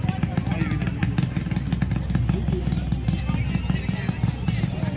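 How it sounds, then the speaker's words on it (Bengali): A motorcycle engine runs steadily and loudly at a village evening gathering in rural Bengal, a continuous low rumble under people talking nearby. "বাইক চলবে ওইখানে, দাঁড়া।"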